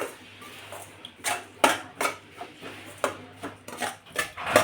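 Roasted grated coconut for a rava-coconut karanji filling is scraped from a kadhai onto a plate. Soft, irregular scraping and clinking strokes repeat about a dozen times, close and fairly quiet, with no talking.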